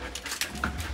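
A dog pants close by in quick, breathy bursts, with a faint whimper-like note during one brief second.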